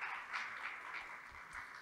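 Audience applause for a pro-rector at a university event, a steady, moderately distant clapping that holds evenly through a brief stretch.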